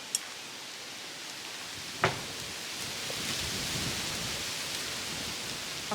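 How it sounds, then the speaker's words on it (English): Rain falling in a garden after a hot, windy day, a steady soft hiss of drops with a sharp tap or two and faint gusts underneath. "Oh, and it started raining."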